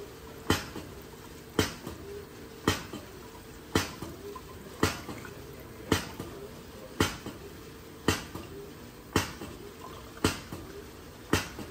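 Water drips steadily into a volumetric flask being topped up with water, with about a dozen sharp, evenly spaced drops roughly one second apart, close and distinct over a quiet background.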